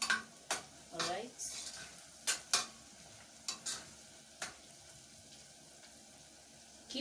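Mukimo frying in generous oil in a pot, stirred with sharp scraping and clinking strokes over a soft continuous sizzle, busy at first and then sparser, close and moderately quiet.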